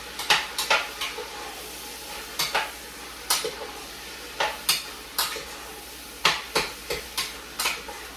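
Ground pork browning in a pan while being stirred with a whisk, sharp irregular scrapes and clacks of utensil against the pan in quick clusters over a soft, steady sizzle.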